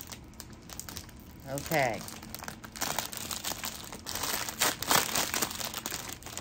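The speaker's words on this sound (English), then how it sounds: "Oh, sorry, I know you don't like the crinkling." Plastic packaging from an online-shopping haul crinkles and rustles as a parcel is torn open, a burst of crisp crackling close up, with someone talking softly over it.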